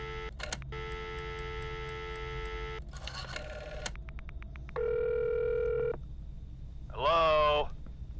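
Phone sounds from the Friday the 13th video game, set in a virtual cabin: a run of electronic telephone tones and rings in separate short bursts, with beeps between them, clear and close over a low background hum.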